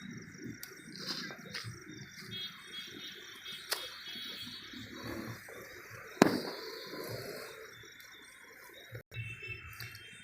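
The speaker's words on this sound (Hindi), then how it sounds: "तो चलिए जलाते हैं इस वाले 5 बम को।" A "5 bomb" Diwali firecracker goes off in a few sharp, scattered bangs, one standing out louder around the middle, over quiet background noise.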